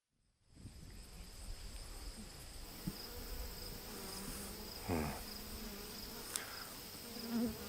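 Bees buzz steadily among apple blossoms at a camp, a continuous close drone of wings with small insects flitting past, occasional louder passes near the listener and no talking.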